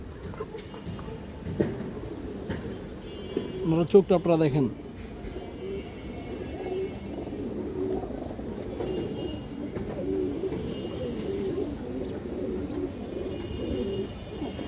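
Male pigeon, a Bladar-type bird, gives a brief cooing burst near the middle, close and clear, amid someone talking steadily throughout and faint background noise.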